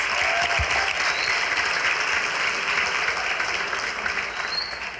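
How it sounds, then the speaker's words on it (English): Sustained applause from an audience honoring students at a school gathering, a broad even roar of many hands clapping for five seconds, easing slightly toward the end. "a round of applause for all our students that are here on a Friday"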